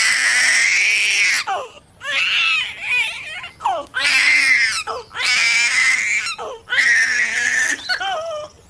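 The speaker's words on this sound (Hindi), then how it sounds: "तभी एक बच्चे की बहुत जोर जोर से रोने की आवाज आने लगी।" A baby cries loudly and close by in repeated wailing bursts with short gasping pauses, a horror-story sound effect, with no talk over it.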